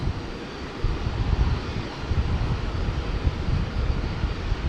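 An airplane at the Brisbane airport international runway on the north side, a steady, broad engine roar heard from a distance, continuous and fairly loud without talking.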